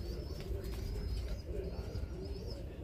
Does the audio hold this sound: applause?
no